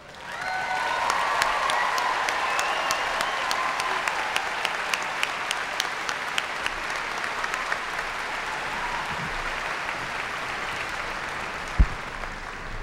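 Sustained applause from a graduation ceremony audience, a broad, dense wash of many hands clapping that continues for the whole stretch, with a single louder thump near the end.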